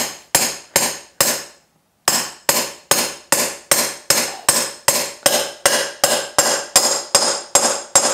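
Steady metallic hammer blows on a socket driving a bearing into a motorcycle wheel, about two per second, ringing sharply after a short pause early on, then continuing evenly and close by.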